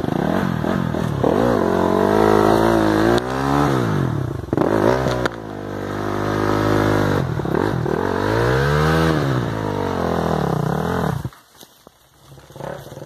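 A Honda CRF 250F dirt bike engine revs up and down repeatedly on a trail, its pitch rising and falling in loud whining sweeps before cutting off abruptly near the end.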